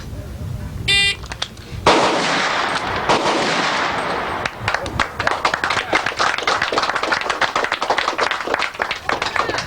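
A shot timer beeps, then a pistol fires in a fast quick-draw string with a reload, giving loud, sharp blasts outdoors. A rapid flurry of sharp cracks or claps follows.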